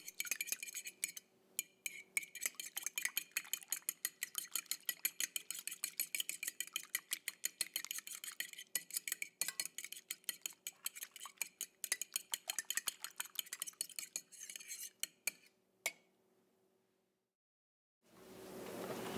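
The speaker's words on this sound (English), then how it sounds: "Next, beat the eggs." Eggs are beaten in a bowl with a fork or whisk for scratch pancakes: fast, steady clinking strokes against the bowl, close and alone, slowing and stopping near the end.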